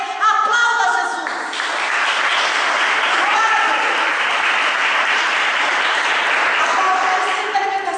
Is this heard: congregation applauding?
yes